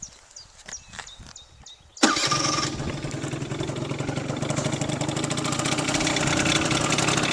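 A Peugeot Speedfight 3 scooter fitted with a Leovince Touring exhaust starts abruptly after faint clicks, then settles into a loud, steady, buzzy idle close to the listener.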